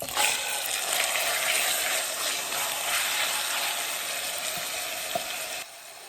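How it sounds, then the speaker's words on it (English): Beef livers with red curry paste sizzle in a hot pan for a Caribbean stew, a steady, close crackling fry that holds for about six seconds before dropping slightly quieter at the end. "I'm going to add my beef livers."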